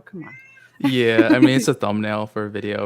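A cat meows briefly in a room just before a person starts talking, and the voice then carries on over the quiet background.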